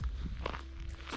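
Footsteps from a person walking outdoors while testing a GoPro Hero 8 Black, a few soft close steps with a slight rustle, quiet and brief.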